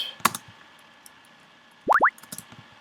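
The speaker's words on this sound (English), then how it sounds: "Then I also added in this bubble sound." Two quick, bright bubbling synth blips rise in pitch near the end of a hip-hop battle beat, following a soft earlier plop and light shaker-like ticks in an otherwise sparse mix.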